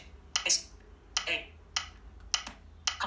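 Several crisp taps land on an iPhone on-screen keyboard with VoiceOver at an uneven pace, each followed by a short synthetic clicking blip, close and fairly quiet.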